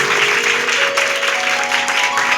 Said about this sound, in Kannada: ಚಪ್ಪಾಳೆ ತಗಬೇಕು